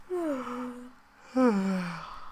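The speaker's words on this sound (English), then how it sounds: "As I kept thinking about it, I couldn't help but yawn." A drawn-out yawn voiced by a character in the otome visual novel Seduce Me, two breathy sighing exhales with falling pitch, close and clear with no other sound.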